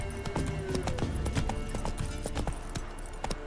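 Geralt's horse Roach trots in The Witcher 3: Wild Hunt, with a quick, steady clip-clop of hooves and faint tack rattle close by, running continuously for a few seconds with no talk.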